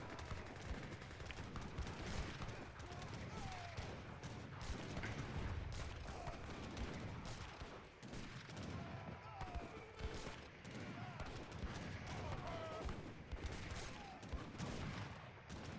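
A fixed gun fires repeatedly at incoming reinforcements in an Age of Empires strategy battle, dense rapid gunfire and booms layered with battle noise, continuous and fairly faint in the mix.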